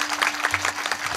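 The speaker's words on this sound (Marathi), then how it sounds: "या सर्व वारकरी मंडळीसाठी जोरदार टाळी वाजवा." Applause from an audience gathered to honour a group of Warkari pilgrims, a short burst of dense, steady clapping that fills the whole moment with no voices over it.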